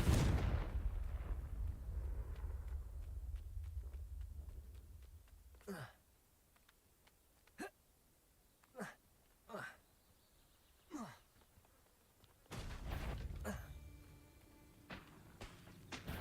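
Confringo fire spell blasts in the Hogwarts Legacy video game sound as a loud whooshing boom that rings out and fades, followed by several sharp spell cracks spaced a second or two apart and a second burst later.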